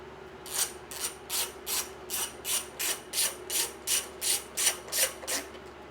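A ratchet backs out 12 mm bolts on a Yamaha MT-07 motorcycle, giving about a dozen evenly spaced rasping clicking strokes, close and steady, with no talk.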